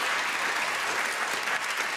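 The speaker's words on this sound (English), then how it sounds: "give him a round of applause right there" A television panel show studio audience applauds and cheers, dense, loud and continuous clapping filling the whole moment.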